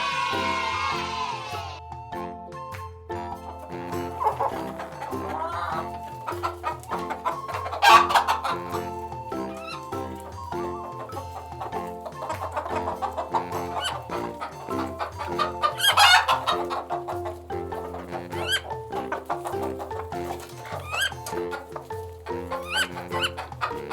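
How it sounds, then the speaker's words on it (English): A hen clucks repeatedly in a rhythmic series of close, clear clucks, with a rooster's crow near the start and other fowl calls mixed in. "It's the hen."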